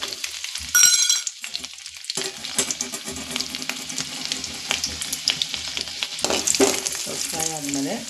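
Chopped garlic frying in hot oil with cumin in a pan for a home-style pea kurma, a steady sizzle with a few stirring scrapes and clinks of the spoon against the pan.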